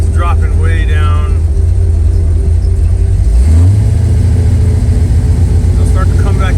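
Small Block Chevy 406 V8 with a vanishing oil pressure fault, idling loud and close, its rpm sagging low then recovering, while someone talks over it.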